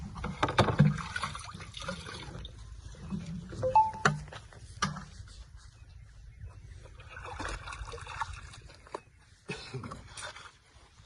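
Liquid sloshes and swirls in a 200-litre barrel as it is stirred in one direction with a stick, with intermittent splashy surges and a few knocks, fairly quiet overall.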